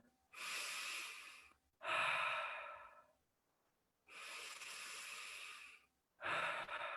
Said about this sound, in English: That's true diaphragmatic breathing.